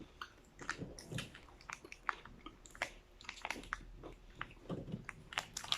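Biting and chewing a chocolate corn flakes cereal bar up close, with repeated crisp crunches and softer wet chewing in an uneven rhythm, no talking.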